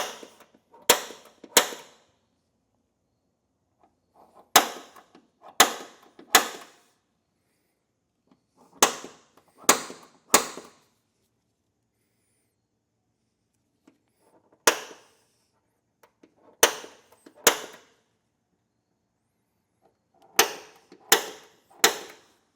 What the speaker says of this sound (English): We'll come back with our center punch, and we will make a little indentation